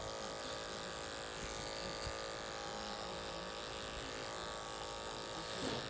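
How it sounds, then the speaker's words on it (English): Andis Supra electric hair clippers buzz steadily and continuously while cutting a skin fade, a close, even motor drone running through the whole stretch with slight texture from the blades moving around the head. "These are Andis Supras."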